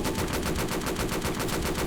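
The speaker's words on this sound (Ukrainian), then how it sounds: "Нападають, нападають на мене, я стріляю." Rapid bursts of automatic gunfire in a Roblox military tycoon game crackle in a fast, even rhythm, loud and continuous, with a synthetic game-like quality.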